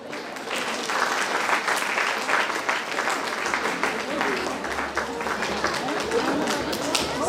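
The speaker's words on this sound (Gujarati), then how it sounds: "તાળી પાડો ભાઈ." Applause for a named attendee at a community get-together (Snehmilan), a sustained wash of crowd clapping with steady density and a low rumble, with faint background voices underneath.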